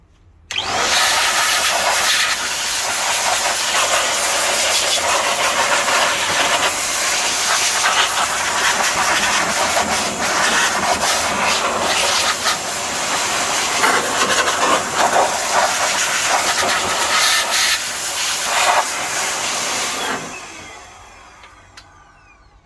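Compressed air from an air duster blasts into an opened Kenwood KR-3200 stereo receiver amplifier during servicing, a loud continuous hiss running nearly twenty seconds with slight fluctuations before cutting off.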